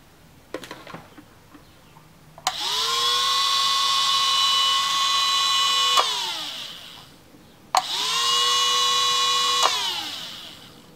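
A small electric acrylic nail drill running at maximum speed whines at a high pitch in two sustained bursts, each spinning up sharply and winding down, with faint clicks before the first.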